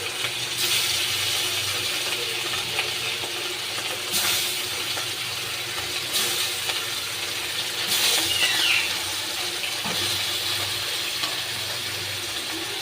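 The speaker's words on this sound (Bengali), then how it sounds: "দেখে নিন তেলটা গরম হয়ে গেছে। এবার আমি মাছগুলো এক এক করে ছেড়ে দেবো।" Hilsa fish frying in hot oil, a steady broadband sizzle and hiss running throughout with a few louder bursts as pieces hit the pan, no talking.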